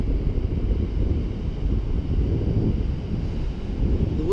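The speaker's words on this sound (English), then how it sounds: "The bloody sea is noisy." Steady low roar of wind and surf on a sheltered stretch of the Eyre Peninsula west coast in South Australia, a continuous rumbling wash with gusty buffeting across the microphone and no voices.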